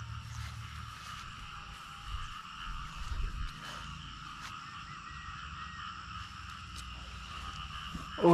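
Frogs croaking in a rice field at night, a continuous layered chorus of steady trills and pulses holding at a moderate level for several seconds, with a few scattered knocks and rustles nearby.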